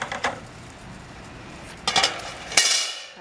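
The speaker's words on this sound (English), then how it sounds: "I place the grill rack on" A metal grill rack is set onto a Weber Smokey Joe charcoal grill, giving several sharp metallic clanks and clinks, a couple of quick rattles, and a final louder clatter, close and with no talk.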